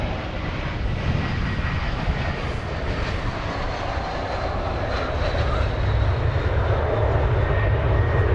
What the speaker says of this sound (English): Flight 2748 from Seattle was an Airbus A321. That's what we just saw.